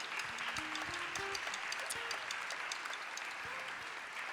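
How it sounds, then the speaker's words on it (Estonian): A concert audience applauds steadily for the sound engineer, a continuous wash of clapping at moderate distance while a voice speaks over it briefly. "Aplaus."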